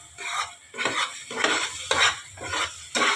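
Khoya mixture for modak being stirred in a pan, a spoon scraping in five distinct rhythmic strokes with soft sizzling between them, close and clear with no talk.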